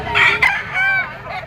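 A full-stag gamecock of lemon sweater bloodline crows loudly and close by in a single rising and falling call, harsh and brief.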